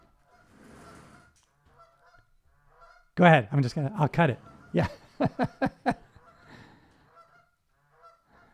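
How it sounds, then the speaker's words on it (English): Geese honk outside an open window in a loud, close burst of rapid, nasal calls, then a second cluster of sharper honks, with a voice speaking quietly before and after. "these damn geese are interfering with my recording"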